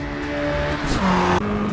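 Tires squealing on a drift car in the racing game Assetto Corsa Evo, a sustained tonal screech over engine noise that rises in pitch midway, loud and close.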